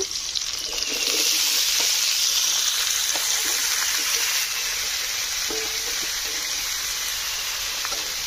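Chopped onion and potato fry in hot oil with a steady, close sizzle that is a little louder at first, then settles into an even hiss with occasional stirring.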